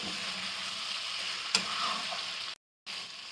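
Chicken frying in a karahi with freshly crushed ginger and garlic, a steady loud sizzle with a sharp stirring scrape partway through, then a brief cut to silence before the sizzling resumes.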